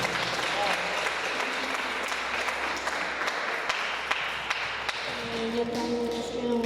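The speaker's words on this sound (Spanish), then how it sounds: "Aplauso" Guests at a quinceañera party in Ameyaltepec break into applause, sustained close clapping with crisp individual hand strikes, while voices and a brief tonal sound emerge near the end.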